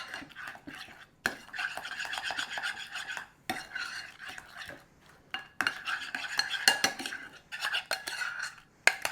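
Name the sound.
stirring sloppy joe mixture in a pan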